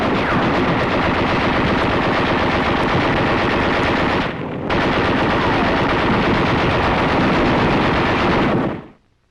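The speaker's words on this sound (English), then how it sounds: "The captured Jap 25 light Nambu fires alongside our caliber 30 heavy machine gun." A captured Japanese Nambu light machine gun and an American caliber .30 heavy machine gun fire together in sustained, loud, dense bursts, with a brief pause midway before the firing ends abruptly.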